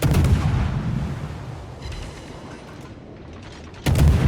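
Heavy naval artillery salvos in the World of Warships game, a loud booming blast at the start that rumbles and fades, followed by a second sharp cannon report near the end, with no talking.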